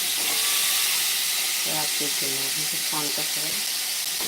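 Rice fries in a pan, giving a constant hissing sizzle while a person talks over it.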